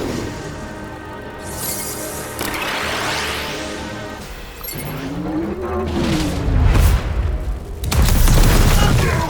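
Artillery firing in the Custom Spliced Creatures strategy game: loud booms, crashes and whooshing blasts in quick succession, with a rising-falling tone between impacts and heavy explosions toward the end.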